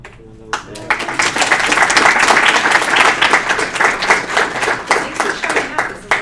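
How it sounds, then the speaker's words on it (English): A room of people at a university computing club meeting breaks into applause: a dense, loud burst of clapping that swells quickly, holds steady, then thins out toward the end. "round of applause"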